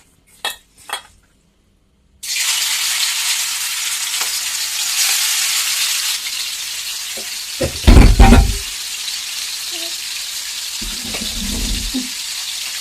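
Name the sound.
chicken frying in hot oil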